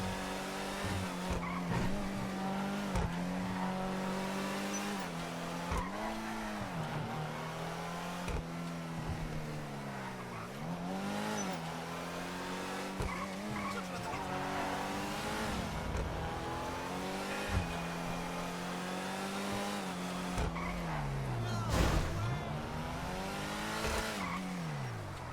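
Ardent car in GTA driven hard, engine revving up and down through gear changes with repeated tire squeals and skids, fairly faint but continuous throughout.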